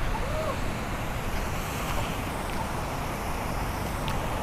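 A waterfall at the Ancient City outdoor museum in Samut Prakan gives off a steady, even rushing roar, continuous and moderately loud, with no one speaking.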